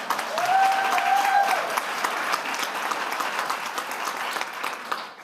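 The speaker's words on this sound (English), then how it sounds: "Let's give her a round of applause." A crowd at a school governing board meeting applauding steadily, a dense patter of clapping that holds for several seconds before tapering off, with a brief tone ringing at the start.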